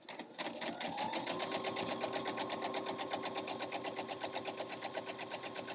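Sewing machine stitching a French seam in fabric, starting after a brief pause and running at a fast, steady rhythmic clatter of needle strokes, close and continuous to the end.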